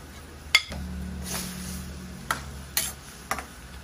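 A spoon scrapes and clinks against a pot of pork menudo with potatoes and carrots, giving a few sharp knocks and soft stirring swishes over a low, steady simmer.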